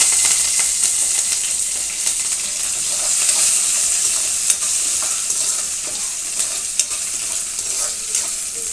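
Onion, chopped chilies and curry leaves frying in hot oil in a pan for an aloo gravy, a steady bright sizzle with scraping stirs and occasional sharp pops, close and loud.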